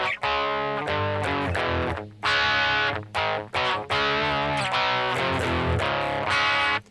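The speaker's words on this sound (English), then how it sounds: "Alright, so I switched to the crunch distortion, just a little bit of" An electric guitar played through a FUZZimp Obtainium Overdrive pedal on a crunch distortion setting, with gritty chords strummed in bursts separated by short pauses, loud and close with no talking.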